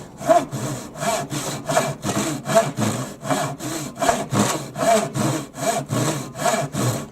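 Rhythmic, evenly spaced strokes of a thin Japanese pull saw rasping through wood, about two strokes per second, close and clear.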